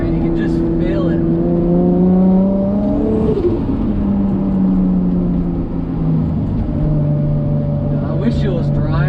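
Modified 550HP Nissan RB25DET engine in an R33 Skyline revs with rising and falling engine tones and a brief turbo flutter, loud and close inside the car, with a voice at times.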